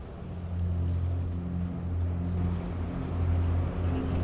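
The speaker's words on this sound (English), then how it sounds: "This Danish warship is sailing in the iceberg-infested fjords of southern Greenland." A Danish warship under way through iceberg-filled fjords off southern Greenland, heard as a steady low engine drone with a deep tonal hum and faint wind, continuous and fairly loud, with no voices.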